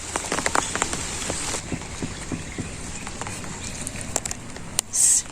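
Rain falling in a rural village setting, a steady soft patter with scattered close drips and drops, fairly faint throughout with a brief louder burst near the end.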